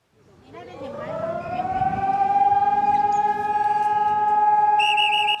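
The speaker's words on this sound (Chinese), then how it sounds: "防空警报声开始弹" An air raid siren rises from low to a loud sustained wail during a civil defence drill in Kaohsiung, holding steady with slight wavering before a higher tone joins near the end.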